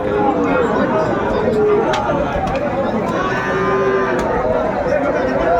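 Sahiwal bulls moo amid a busy cattle market crowd in Ambari, with constant chatter and people talking nearby, the lowing rising out of a loud, dense market din.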